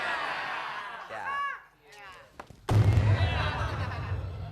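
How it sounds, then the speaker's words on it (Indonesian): An explosion sound effect on an Indonesian TV comedy show bursts in suddenly as a loud, rumbling blast after a stretch of talk and laughter, then keeps roaring until the end. "Meledak malah."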